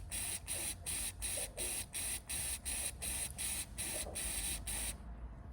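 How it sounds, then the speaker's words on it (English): An aerosol can sprays in about a dozen short, even bursts, a bright hissing rhythm that stops abruptly. "Fixed! With a can of spray."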